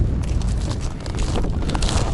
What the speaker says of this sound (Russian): Ветер ужасный.